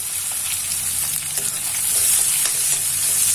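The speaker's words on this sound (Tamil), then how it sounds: "இப்போ நம்ம வெங்காயத்தை ஆட் பண்ணிடலாம்." Onions sizzle and crackle steadily in a hot pan with oil and dried red chillies, a dense close frying hiss that grows slightly louder, with occasional stirring scrapes.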